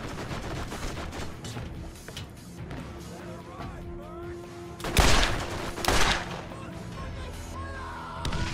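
Two sharp bursts of enemy fire from a shock weapon in Borderlands ring out against a steady game soundscape with background effects, each blast loud and brief, about a second apart.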